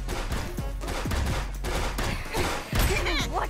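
Rapid gunfire in the online shooter game Friends Vs. Friends, a dense burst of sharp repeated shots and thuds over a low rumble, with louder blasts near the end and voices faintly present.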